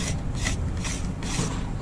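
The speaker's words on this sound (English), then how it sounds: "when I get to the underneath, scraping it back again" An everyday-carry knife blade scraping along a wooden peg during carving, giving repeated close, raspy strokes in an even back-and-forth rhythm with no talking.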